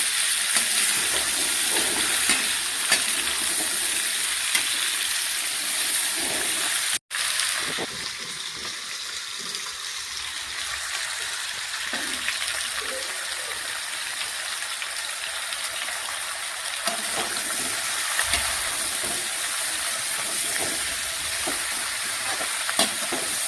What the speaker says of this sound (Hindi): मैंने सिंपल लहसुन और मिर्च से तड़का लगाया है आलू और बथुए में